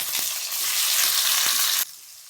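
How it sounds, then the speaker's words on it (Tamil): Tomato added to chicken thokku masala in a hot pan, a loud broad sizzle with a few spoon knocks that cuts off abruptly near the end, leaving a quieter background. "இப்போ தக்காளி ஒரு சின்னதாக எடுத்து கட்டி வச்சு போட்டுக்கலாம்."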